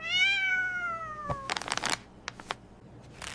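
A hungry cat gives a long, close, clear meow, followed by a few sharp clicks and rustling noises in an indoor home setting.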